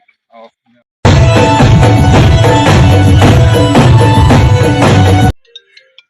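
A mobile phone ringtone plays loud and steady for about four seconds as a continuous musical tune, then stops, with a brief voice just before and a few faint sounds after.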